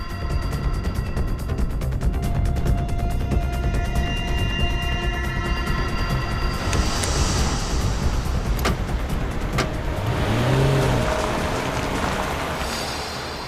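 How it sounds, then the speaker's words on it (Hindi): Car driving on a road, a continuous loud engine and road roar that swells toward the end as the vehicle speeds up, with tonal hums running through it. "इसने अचानक गाड़ी की स्पीड क्यों बढ़ा दी?"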